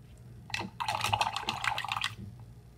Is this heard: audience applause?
no